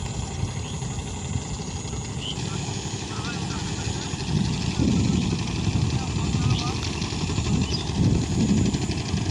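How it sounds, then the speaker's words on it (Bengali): A river trawler carrying a load of sand chugs along the Kaligonga River in Bangladesh, its engine a steady droning rumble throughout, with voices talking nearby over it. "ট্রলারটি বালুর টিপ দিয়ে আসছে"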